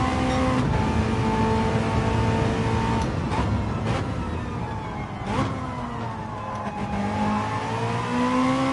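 Racing car engine in Gran Turismo 7 during a lap time challenge, revving loudly and continuously with pitch climbing and dipping through gear changes, alongside faint tire noise.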